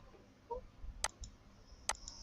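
A computer mouse clicks twice, about a second apart, as someone navigates a school management web portal. The clicks are crisp and close over a quiet room hum.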